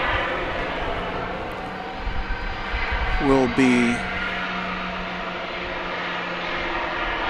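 A Boeing 737-800 jet airliner on flight 1168 to Las Vegas at Dallas Love Field gives off a steady, distant broadband roar. Close voices briefly talk over it.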